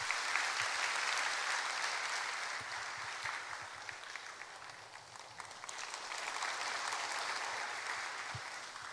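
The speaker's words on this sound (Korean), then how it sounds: "떨리실 텐데 다시 한번 박수 한번 해주세요." Church congregation applauding during a worship service, a full, steady round of clapping from many people in a large room that swells and settles over several seconds, with no talk over it.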